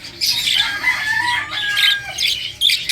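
Parakeets chatter and squawk in a backyard aviary kept for breeding, a busy flock of bright overlapping calls with bursts of wing flapping, close and steady throughout.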